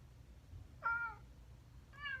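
An Amazon Echo smart speaker plays two short cat meows, the first clearer and the second cut off at the end, fairly quiet over a low background hum.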